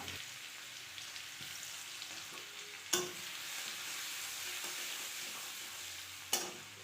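Crushed garlic sizzles in hot oil in a kadai over a tempering of whole cumin, cinnamon, cardamom, cloves and mace: a steady, soft frying hiss with two sharp stirring clatters partway through.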